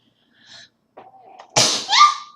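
After a soft breathy build-up, one sharp, loud sneeze bursts out close by, trailing off into a brief exhale.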